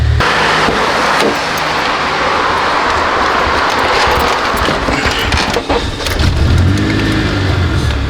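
A K20-swapped Honda Civic EK engine runs loudly and close, a dense, continuous roar that stays steady throughout with a slight dip and surge near the end.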